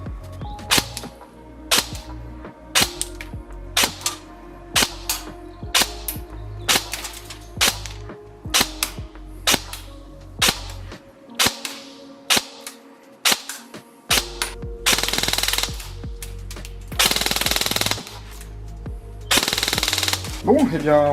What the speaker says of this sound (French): On va aller au test chronie et au test de tir